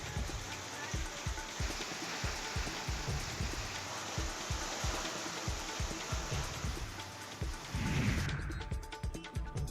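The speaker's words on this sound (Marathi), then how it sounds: "अमरावती शहरासह ग्रामीण भागामध्ये मुसळधार अवकाळी पाऊस झालेला आहे" Heavy unseasonal rain falls over Amravati city, a dense, steady hiss of downpour with regular low thumps, continuing loudly before shifting near the end.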